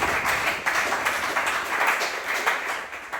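A church congregation applauds at a Tuesday service, a dense, steady patter of many hands clapping at once that carries evenly and fairly loud from start to finish.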